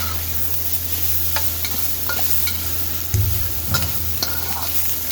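Steady sizzling of vegetables frying in hot oil for fried rice, with occasional clinks and stirring scrapes over the crackle; no voices.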